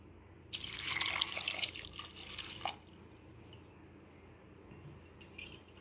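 Water poured into a pot of peas and potatoes makes a bright, splashing stream for about two seconds, then the sound drops to a quiet background.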